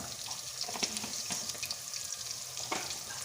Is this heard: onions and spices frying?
yes